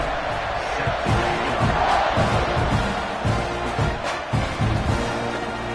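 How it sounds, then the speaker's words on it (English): A football stadium crowd buzzes after a touchdown in an NDL vs Arkansas game, a steady, loud roar of many voices with occasional thuds underneath. "this crowd is buzzing after that last score"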